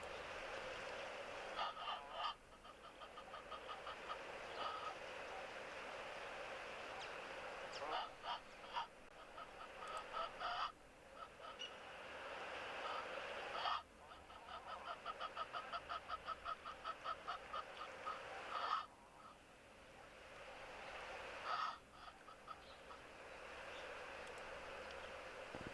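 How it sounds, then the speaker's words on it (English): Guinea fowl at a bush waterhole give repeated bursts of harsh, rattling cackles, several calling sequences spaced a few seconds apart against quiet background. "So we do have some of the guinea fowl there on the right of the frame."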